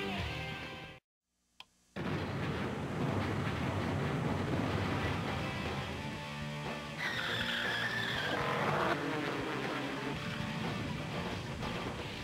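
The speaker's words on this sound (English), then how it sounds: "Three cars have rolled from the starting grid here at Michigan International Speedway" NASCAR Winston Cup race cars roll off the starting grid at Michigan International Speedway for the Kmart 400, a loud sustained engine roar with tire squeal after a brief gap of silence near the start.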